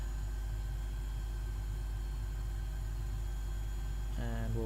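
A turboprop aircraft engine runs in a flight simulator, a steady droning hum with a constant tonal whine, until a voice begins speaking near the end.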